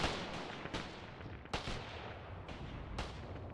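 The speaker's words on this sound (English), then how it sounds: "You can hear MGs in the distance" Machine-gun fire from the WWII game Mius Front comes in rough bursts with repeated sharp cracks over a steady rumble of battle noise. The bursts sound fairly close and loud rather than distant.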